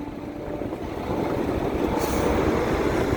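An Isuzu truck with a 6HE diesel engine runs steadily, a dense, loud rumble with continuous low roar and broadband noise, no talk over it.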